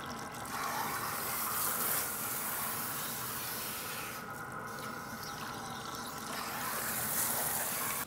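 Water runs steadily from a salon tap or sprayer while Redken Flash Lift lightener with Olaplex is rinsed out of hair, a continuous close hiss and splash with slight shifts in the flow and no speech.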